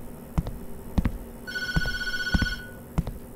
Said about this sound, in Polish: Nie odbierać telefonu.